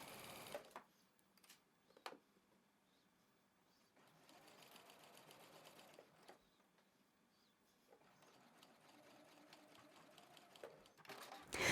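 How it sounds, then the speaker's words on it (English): A home sewing machine stitches down the slanted edge of a shirt placket with a 3/8 inch seam, running in two quiet stretches of soft rapid whirring separated by pauses and a few light handling clicks. "we're going to sew down this slanted edge with a 3/8 inch seam allowance"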